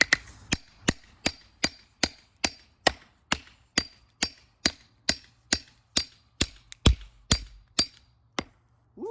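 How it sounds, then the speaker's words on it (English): A hammer strikes a Schrade SCHF45 Bowie knife in a steady series of about twenty sharp, ringing metallic blows, evenly spaced and close, with no talking. "Today we brought a hammer."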